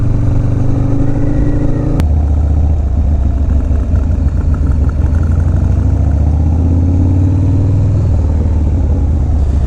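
A motorcycle on a Brooklyn commute at night, its engine running loud and close throughout with a low throbbing drone, shifting pitch about two seconds in and again near eight seconds as it changes speed.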